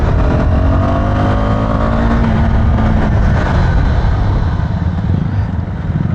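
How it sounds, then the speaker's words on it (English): Adventure motorcycle on a road during a brake test, its engine note loud and close, dropping in pitch as the bike slows over several seconds. "We'll just give it a bit of a brake test."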